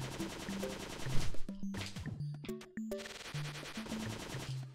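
Machine gun fire in Cave Story, rapid chiptune-style shots rattling over upbeat retro game music, with a short flurry of blasts and crashes in the middle before the music carries on.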